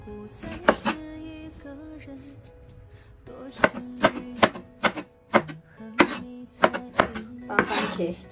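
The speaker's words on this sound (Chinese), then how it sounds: "把番茄切成大块" Tomatoes are cut into large chunks with a knife on a board in a home kitchen, producing a run of sharp, close chopping knocks. A brief pause comes early, then the knocks arrive in a quicker, steady rhythm, with no voices.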